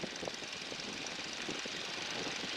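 Light aircraft engine during run-up with power increasing, a steady dense roar heard from inside the cockpit, constant and fairly quiet without talk.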